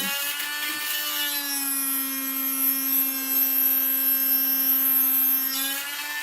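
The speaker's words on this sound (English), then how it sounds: "I hold it like this so I can see where I've drilled." A small rotary drill bores a hole through a piece of sea glass, giving a steady high-pitched whine with a strong tonal hum and bright overtones that runs almost the entire time, close and without talk.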